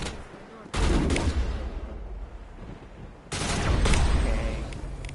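Sustained bursts of turret gunfire in Mass Effect, two loud dense stretches of rapid fire separated by a quieter lull, with a low rumbling game background throughout.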